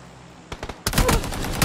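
Gunfire in the PUBG battle royale video game against players camping on rooftops: a few sharp shots, then a sudden, loud, sustained burst of rapid fire that runs to the end.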